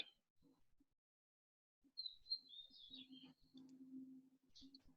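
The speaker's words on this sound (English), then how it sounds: "the sound of the bird songs" Birds chirp and sing outdoors in a quiet setting in Chiang Rai, with faint thin calls scattered over a low steady hum.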